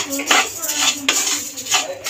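Moong dal with two bay leaves being stirred in a hot kadai, a spoon scraping and clinking against the metal repeatedly in quick strokes, close and fairly loud.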